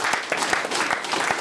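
A church congregation claps together in quick, fairly even beats, a dense burst of applause acclaiming Jesus, with faint voices mixed in.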